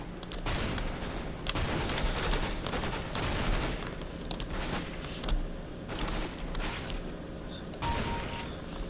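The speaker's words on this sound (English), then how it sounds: "Now I'm on shotguns" Dense rapid gunfire from Counter-Strike: Global Offensive fills the scene, with repeated loud shotgun blasts and overlapping shots in a continuous battle.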